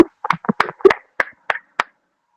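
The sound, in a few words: audience giving small clapping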